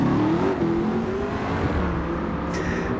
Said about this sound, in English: If you're wondering why that Focus is so quick, it's been engine swapped with a V8, supercharged V8 from a Ford GT.